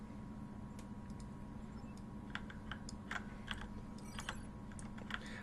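Quiet typing on a computer keyboard, scattered soft key clicks that grow busier in the second half, faint against a steady background hum.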